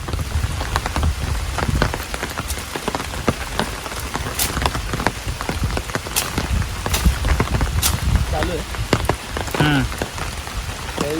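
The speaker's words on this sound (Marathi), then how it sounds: "काय पाऊस येलो आता" Steady rain patters on surfaces close by, a dense continuous hiss with scattered louder drops.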